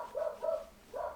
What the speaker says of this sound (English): Exhibit A, they bark all the time and they just don't stop.